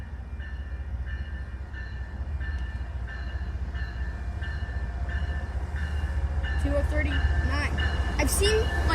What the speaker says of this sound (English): You got a train.